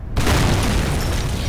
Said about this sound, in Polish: Lubię patrzeć na wybuchy.